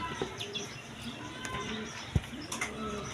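Caged pigeons give soft, faint coos mixed with a few brief chirps at low level, with no talking.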